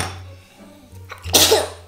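A single sharp sneeze bursts out near the end, loud and close, following a quieter intake of breath in a late-night indoor setting.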